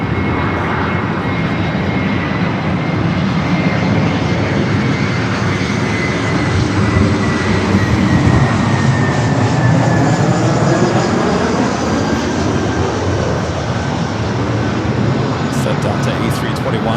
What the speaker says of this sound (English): China Eastern heading up here for north side at takeoff.